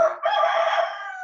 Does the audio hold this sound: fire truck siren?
no